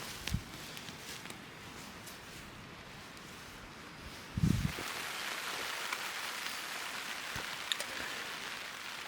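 Heavy rain falling in woodland, a steady broadband hiss with scattered louder drops and a couple of nearby thumps, continuous throughout with no voices.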